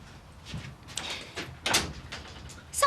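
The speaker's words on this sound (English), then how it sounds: "Close the door." A door is shut indoors in a domestic drama scene: a few scuffs and movements lead to a firm, close thud of the door closing, then a quieter click and settle afterward.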